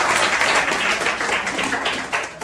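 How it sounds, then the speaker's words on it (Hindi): Loud, dense applause from a class of students fills the whole moment, a steady wash of clapping hands with no break. "इनके लिए जोरदार ताली हो जाए।"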